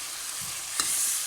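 Kaleji masala with coriander powder roasting in a pan, giving a steady soft sizzle with a brief stirring scrape. No one speaks.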